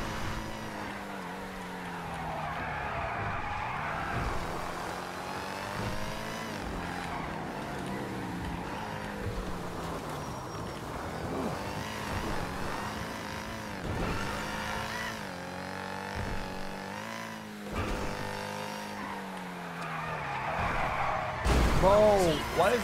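Car engine revving and driving in the GTA video game, with rising and falling engine tones and occasional impact thuds, under someone talking over much of it.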